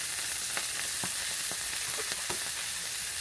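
Brussels sprouts sizzle in hot olive oil in a pan, a steady close hiss of frying with scattered small pops and crackles, no voices.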